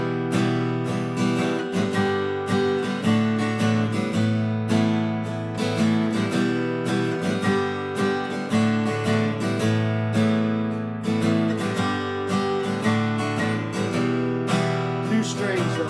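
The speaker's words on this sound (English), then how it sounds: "So what does the Hyundai guitar sound like from the 1970s?" A vintage 1970s Hyundai electric guitar with only two strings strums chords in a steady, fairly bright, tinny rhythm for several seconds, played alone with no talking.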